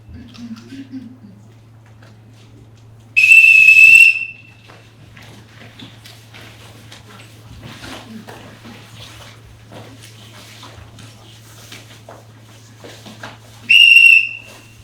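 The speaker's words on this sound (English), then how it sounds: "Whistle." A shrill whistle blasts twice, each blast about a second long and spaced well apart, over a low steady hum and faint background noise.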